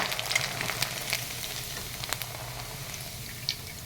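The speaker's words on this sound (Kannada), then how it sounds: "ಈ ಗಟ್ಟಿ ಅವಲಕ್ಕಿ ಫ್ರೈ ಮಾಡೋದಕ್ಕೆ ಈ ಥರ ಜಾಲರಿ ಯೂಸ್ ಮಾಡಬೇಕು" Thick poha frying in oil inside a metal strainer for a seasonal Kannada-style mixture gives a dense, steady bubbling sizzle with light scraping taps, close and continuous with no talking.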